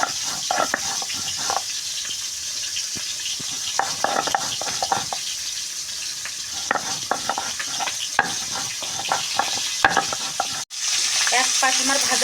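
Rohu fish head frying in oil gives a close, steady sizzle punctuated by bursts of crackling spatter and a few sharp pops, with a brief dip near the end before the hiss resumes.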